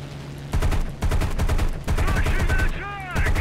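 Rapid bursts of aircraft gunfire in the combat flight game War Thunder, firing in several long loud strings with short gaps between, under engine noise, with no talk.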